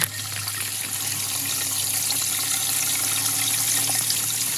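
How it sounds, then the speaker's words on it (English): Water sputters and sprays from a broken pipe riser that burst in freezing temperatures, a steady, close, fairly loud rushing hiss over a low hum that runs unbroken through the whole stretch. "those two risers that were sputtering all kinds of water"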